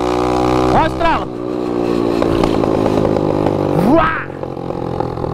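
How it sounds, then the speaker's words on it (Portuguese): A mini motorcycle engine runs close by, its buzzing idle rising in two quick revving sweeps, with people talking over the engine. "Ah, Jonas, você só começa o vídeo na mini moto."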